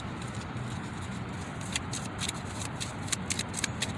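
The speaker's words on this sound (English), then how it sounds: "Let's get a planetary card. I'm gonna shuffle these." A deck of planetary oracle cards is shuffled by hand, giving a soft, steady riffling patter with light flicks growing more frequent toward the end, close and fairly quiet with no talking.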